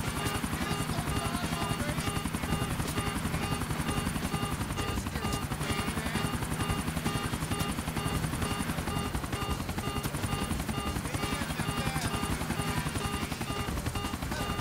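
Helicopter landing in the GTA IV video game, a continuous loud rotor whine and chop with steady buzzing throughout, close and dominant, no talk.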